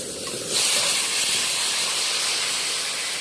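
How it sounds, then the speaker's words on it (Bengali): Water is poured into a hot frying pan of turmeric-coated river fish, bursting into a loud, steady steam hiss that begins suddenly and carries on without voices. "এবার দেবো জল চলো"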